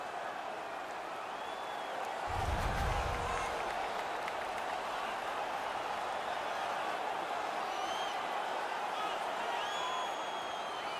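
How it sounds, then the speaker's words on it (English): Home crowd at an NHL 17 hockey video game, a steady arena roar of cheering and applause that swells briefly early on, then stays level and fairly loud throughout with no talk over it. "The home crowd is ecstatic. They're making all kinds of noise."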